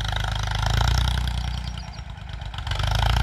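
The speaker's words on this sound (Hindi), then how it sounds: "13 के टायर हैं और बड़ी मस्ती के साथ में हैरो खींच रहा है।" A Ford 3600 tractor on 13-inch tyres pulls a harrow through a field. Its engine chugs loudly and close by with a rough, steady rhythm that dips briefly before picking up again.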